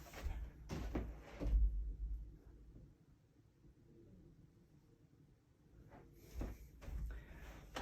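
A door bumps and rattles shut with a few close thuds, then a quiet stretch of faint room rumble, then more knocks and handling sounds at the end.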